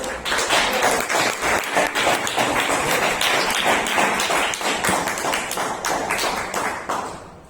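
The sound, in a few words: audience applauding at a Toastmasters meeting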